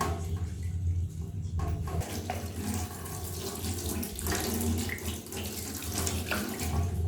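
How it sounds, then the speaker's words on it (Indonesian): Water from a tap runs steadily into a sink as children wash their hands at school, a continuous close splashing rush with slight changes as hands move under the stream, and no clear voices. "Ayo Alicia cuci tangan."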